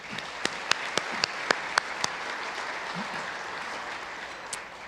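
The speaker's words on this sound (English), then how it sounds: "A round of applause for gold sponsors" A room of attendees at a chamber of commerce annual meeting claps for the gold sponsors, a dense, moderately loud round of applause with a few sharp individual claps standing out near the start.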